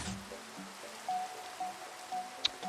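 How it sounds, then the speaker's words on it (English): Steady rain patters in a Minecraft world running shaders, a soft continuous hiss of drops with a few faint tonal game sounds and one brief sharp tick, no talking. "It's raining."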